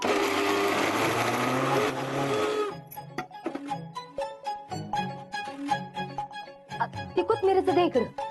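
A kitchen mixer grinder whirs loudly and steadily for a couple of seconds, then cuts out, leaving people talking along with scattered kitchen clatter.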